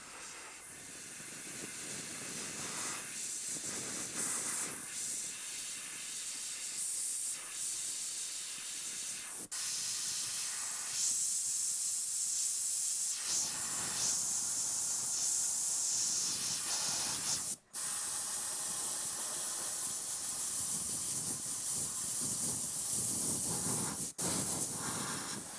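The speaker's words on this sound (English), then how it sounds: "I'm also spraying that tangerine candy over the Tassie Devil" An airbrush spraying tangerine candy paint over an airbrushed Tassie Devil artwork, a continuous close hiss of air and paint that swells and thins in passes, broken by two brief drops where the trigger is released.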